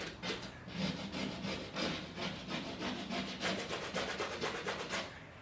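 Dry paint over a patched plastic hole is scratched in quick, repeated rasping strokes, a close scraping rhythm of about a dozen rubs, fairly quiet with no voices.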